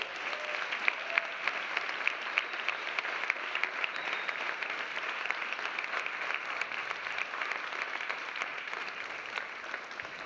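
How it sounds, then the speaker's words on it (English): Audience applause for the speakers at an AI summit, a dense, sustained clapping from a crowded room lasting the whole stretch, fairly even in loudness with no talk over it. "Please give them a huge round of applause."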